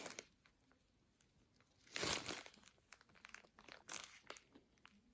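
Crinkly plastic bag full of brown rhinestones for diamond embroidery rustling, small stones shifting inside, two louder crunching bursts amid softer intermittent rustles, close up.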